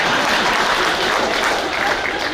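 An audience at a rally applauds, dense continuous clapping from many hands filling the whole moment, loud and even throughout.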